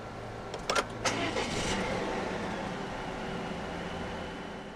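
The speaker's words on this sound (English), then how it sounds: "put your foot on the brake and press the start button straight away" A 2017 Volvo S60 T6 sedan started with the push button: a short crank burst, then a brief rev that settles into a steady, quiet idle, heard close with no talk.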